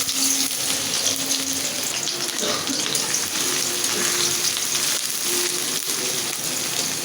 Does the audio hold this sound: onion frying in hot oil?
yes